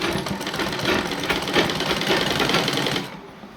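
A sewing machine stitches a dress, running in a loud, fast, steady whir close by for about three seconds before stopping abruptly, with no talking.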